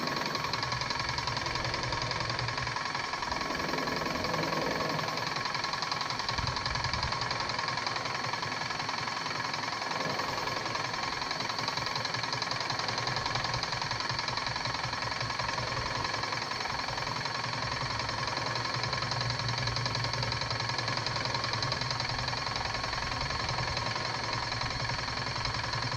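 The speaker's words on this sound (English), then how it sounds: "The pump's been primed, flushed through, and then the hose has been flushed through" A Graco GX FF airless spray pump runs steadily while flushing water through its hose, a continuous loud mechanical hum with rapid rhythmic knocking that holds at an even level throughout, with no voices.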